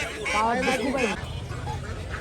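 Native country ducks at a poultry market in Tongi Bazar, several loud close quacks in a quick burst followed by quieter calls, with someone talking over the market noise.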